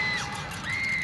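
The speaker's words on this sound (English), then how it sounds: "The crowd went crazy, screaming and laughing in crazed ecstasy at the victory." A crowd screams and yells in a frenzy, with a shrill high scream sweeping up and down over a dense, continuous roar of voices, loud and close for about a second.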